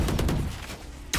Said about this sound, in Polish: Ale ich tam strzelam tymi strzałami.